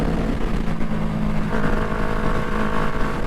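Engine drone of a Kawasaki Ninja 650 motorcycle riding through traffic, a continuous steady hum with wind and road noise, moderately loud and without speech.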